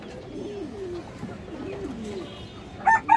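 Pigeons on a farm sale of high-flyer birds give soft, rolling coos in repeated phrases, fairly close, with a few sharper clicks and knocks near the end.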